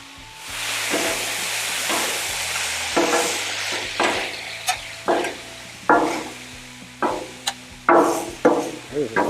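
Fried rice with soy sauce sizzling on a Blackstone griddle, a loud steady hiss broken by repeated scraping and clanking strokes of a spatula through the rice.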